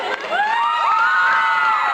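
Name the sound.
audience applause and cheering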